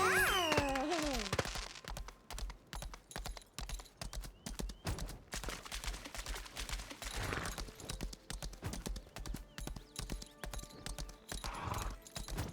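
In a video game, a horse's hooves clatter across a bridge in a fast, steady, rapid beat, quiet and continuous, after a short burst of other game sounds at the start.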